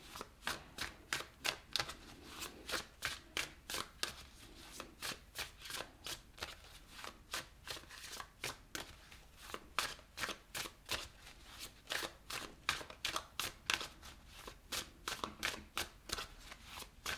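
Tarot cards shuffled steadily alone, a fast run of crisp riffling slaps repeating in quick bursts throughout, close and fairly quiet.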